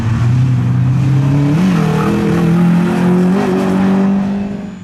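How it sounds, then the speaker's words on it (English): A Mini Cup race car engine drones steadily on the St. Angelo circuit, loud and close throughout, its pitch dipping and rising slightly with throttle changes. "Donegal's Patrick McShane puts the LaBase Ireland car right to the top of the timesheets"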